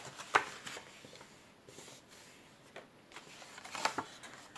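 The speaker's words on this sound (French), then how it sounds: "Je marque d'abord tous mes plis droits." Paper being creased into straight folds for an origami box, soft quiet scraping and pressing strokes by hand with a couple of sharper crinkles, close and faint with no talking.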